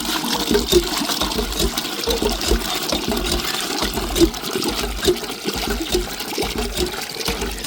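Well water drawn by a hand pump, splashing and trickling steadily into a container outdoors, with a faint rhythmic creak of the pump over several seconds.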